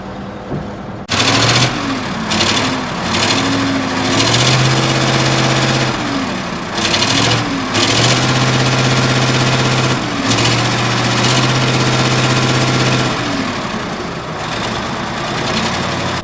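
A massive old 95,000 lb wheel loader with a V8 engine runs close and loud, its heavy drone rising and falling as it revs repeatedly over about sixteen seconds, with no talking.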